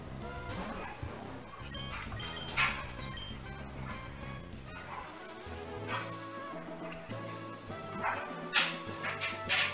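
In Pokémon Sapphire, Electrike's synthesized dog-like barking cry sounds several times over looping in-game music, its short bright yelps popping out above the soundtrack.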